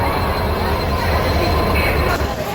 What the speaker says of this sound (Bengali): এই হচ্ছে আমাদের ট্রেন।